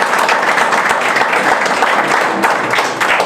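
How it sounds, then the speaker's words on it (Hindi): Students in a coaching class applaud steadily as a teacher is garlanded at a welcome ceremony, a dense, continuous patter of many hands clapping close by with no voices over it. "बच्चे जो है तैयार हैं, ताली बजाएंगे खालिद सर को माल्यार्पण करते हुए"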